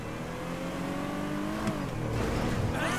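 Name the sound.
muscle car engine in video game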